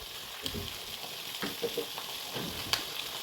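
Fish curry masala with red chili powder being stirred lightly in a pan: soft scrapes and clinks come and go over a steady, close frying sizzle.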